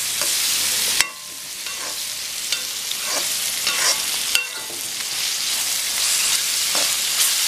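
Onions and tomato sautéing in a pan for South Indian mutton curry, a steady close sizzle with scraping stir strokes at a few points, running continuously with no voices.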